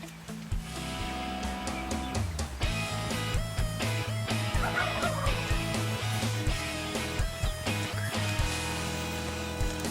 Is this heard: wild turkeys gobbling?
yes